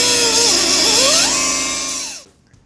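A power drill whines loudly at high speed while drilling a hole during a Ford 200 six to 351 engine swap, its pitch shifting as it bites into material, then spins down and stops.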